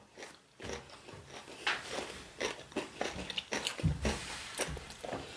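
Close, crunchy chewing of a peanut butter chocolate cornflake bar repeats in an uneven rhythm, with sharp crackling bites and moist munching sounds.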